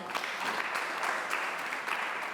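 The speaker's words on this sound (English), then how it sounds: "Big round of applause for Sam" A crowd applauds in a steady, dense wash of clapping, with no break over a short stretch, for a speaker named Sam at a barcamp panel discussion.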